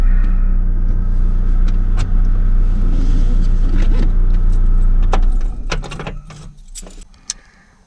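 A truck's engine rumbles loudly and steadily as it comes to a stop, then cuts out, leaving quieter rattles and clicks near the end.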